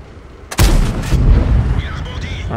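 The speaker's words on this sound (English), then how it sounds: "This shot bounced." AMX 30 medium tank main gun firing in World of Tanks: one sudden loud booming shot with a rumbling decay, followed by fainter game sounds and a voice.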